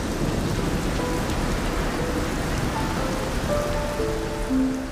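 Steady, heavy rain pours outside as a sound effect in a Kyrgyz song, a dense constant hiss with faint rumbling beneath, alone without voices or music at this point.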